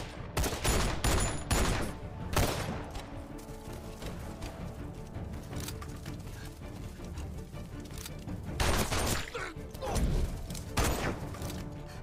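Gunfire during a police raid in an action film: dense bursts of rapid shots at the start and again near the end, with lighter scattered shots and clatter between.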